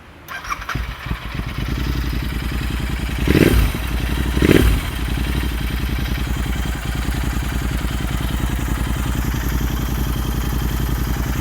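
A 2020 Royal Enfield Interceptor 650 motorcycle engine idles close by with a steady, even rumble. Two brief throttle blips rise out of the idle a few seconds in, with no talk over it.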